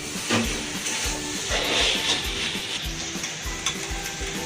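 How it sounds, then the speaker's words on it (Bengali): Okra frying with salt in a pan as it is stirred, a steady sizzle with repeated scraping strokes of the spoon, close and moderately loud. "নুন দিয়ে নাড়াচাড়া করতে করতে ঢেঁড়সটা যে মরে যাবে"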